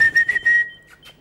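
A whistle is blown to switch on a light-up dog collar, giving a steady, high, shrill tone. Short bursts of breath sit over it, and it fades to faint blips at the end.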